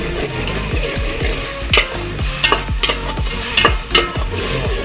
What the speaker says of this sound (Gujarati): હવે એમાં આવી આપણી આ ચટણી જે આદુ મરચાં ને લસણની બધી પેસ્ટ બનાવીને રાખી હતી